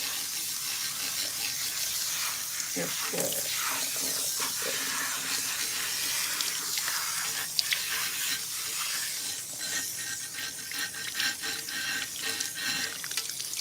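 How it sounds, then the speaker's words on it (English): Cool water running steadily from a salon sink faucet as hair is rinsed, a constant hissing spray throughout with a brief voice near the end. "we're going to rinse her with some cool water"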